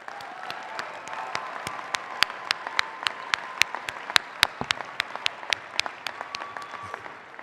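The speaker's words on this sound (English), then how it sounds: "Please join me in recognizing their accomplishments and one more round of applause" Applause from a commencement audience at the University of Northern Colorado, a steady wash of many hands with sharp individual claps standing out, sustained and fairly close throughout.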